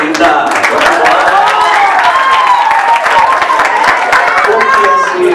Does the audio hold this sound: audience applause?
yes